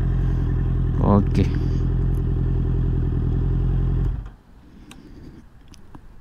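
A motorcycle engine idles with a loud, steady rumble, then cuts off abruptly, leaving quieter background and a brief spoken word in Malay.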